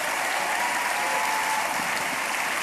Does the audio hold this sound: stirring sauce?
no